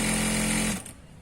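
A sewing machine stitches Patiyala salwar pieces with a half-inch seam, a brief steady whirring run that stops abruptly after less than a second, close and loud.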